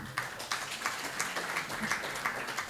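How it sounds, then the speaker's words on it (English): Moderate applause from a forum audience thanking a panel moderator, a steady patter of many hands with periodic louder claps, fairly distant and continuous without talk. "May we please also give her a round of applause?"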